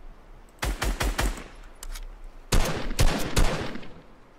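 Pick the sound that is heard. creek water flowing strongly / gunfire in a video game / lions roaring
gunfire in a video game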